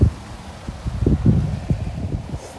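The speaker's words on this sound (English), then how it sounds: "So windy." Gusty wind at an RV park buffets the microphone in low rumbling bursts, with rustling and flapping noise rising and falling throughout.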